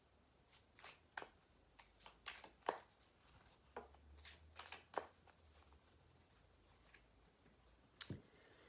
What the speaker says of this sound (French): je vais tirer une carte supplémentaire